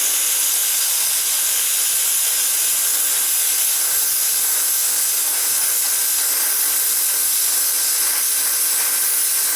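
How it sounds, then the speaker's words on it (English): A plasma cutter slices a metal strap for Jeep tube doors with a loud, unbroken hiss of rushing air and arc noise that holds steady for the whole stretch, close by and without pauses. "we're going to use a plasma cutter"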